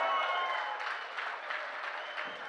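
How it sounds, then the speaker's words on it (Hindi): An audience at a Hindi comedy poetry show applauds in a steady, even wash of clapping that holds at moderate loudness for a couple of seconds. "तालियां बजा कर, तालियां।"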